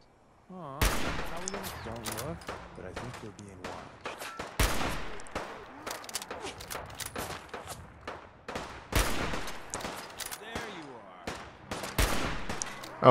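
Gunshots in Fallout 4 played on Survival difficulty, a long series of sharp, loud reports in irregular clusters, some rapid bursts and some single shots, with someone talking between them.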